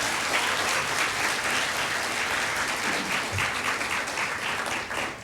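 An audience at a 2016 international student orientation welcome claps for volunteers, a full, even round of applause that holds steady throughout and fades slightly at the end.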